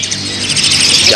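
A young Asian pied starling chick at a bird market begs for food with loud, continuous high-pitched rasping calls, close and insistent throughout.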